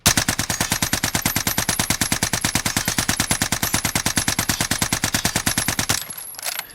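An assault rifle in the video game Call of Duty Warzone fires a long, steady automatic burst of evenly spaced shots, loud and close, stopping abruptly near the end with a brief tail.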